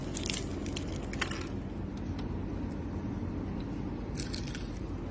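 Someone bites into a crunchy fried samosa up close, with a burst of crackling crunches at the start and another near the end over a steady low background hum.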